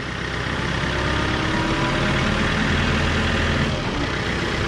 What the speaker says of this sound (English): So I've got my tractor cranked up.